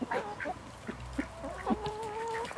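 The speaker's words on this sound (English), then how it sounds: "So the Icelandic chicks are doing good." Icelandic chickens in a small backyard flock cluck and chirp softly in short scattered calls, faint and fairly close, with no talking.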